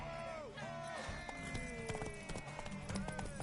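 Horse hooves clip-clopping at a steady trot in The Witcher 3, rhythmic and close, layered over game music and a voice speaking.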